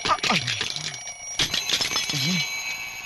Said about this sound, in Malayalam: അലാറം നിർത്തറ